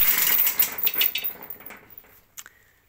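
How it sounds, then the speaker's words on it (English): A ratchet on a pull test rig clicks loudly and rapidly at first, then the clatter thins into scattered sharp clicks and fades to near silence. "this ratchet creates a hell of a noise"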